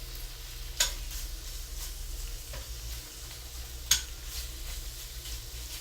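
Shrimp sizzle gently in Calabrian chili oil in a restaurant pan, a soft steady crackle under a low background hum, broken by two sharp utensil clinks.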